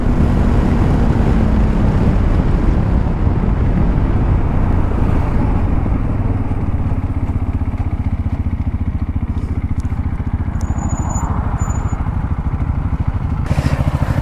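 TVS RTX 300 and BMW G310 GS motorcycles are ridden at high speed in top gear, with a loud continuous engine drone and heavy wind rush close by and a few faint higher tones, without talk.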